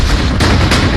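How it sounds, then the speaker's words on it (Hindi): A loud, dense burst of gunfire sound effect, rapid overlapping shots and booms packed into about a second with no pause between them. "अतीक और अशरफ को कुछ ही सेकंड्स में गोलियों से भून दिया गया"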